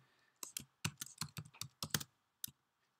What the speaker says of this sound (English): we're going to type in form, press tab